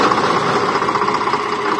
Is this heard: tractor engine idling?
yes